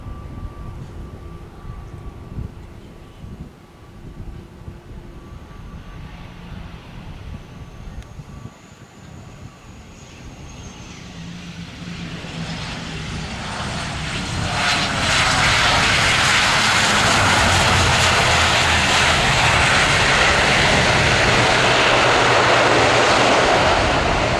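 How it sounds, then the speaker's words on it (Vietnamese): A Lao Airlines ATR 72-500 turboprop landing on runway 07 left, its engine drone building from a moderate hum into a loud, broad roar that holds steady to the end, with no voices. "Và bây giờ thì chiếc máy bay đang nhanh chóng hạ cánh."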